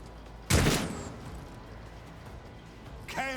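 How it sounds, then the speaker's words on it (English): A plasma pistol fires once in the video game Rogue Trader, a single loud, bright burst with a hissing tail, followed by quiet and a brief rising electronic whine at the end. "Is that a plasma pistol?"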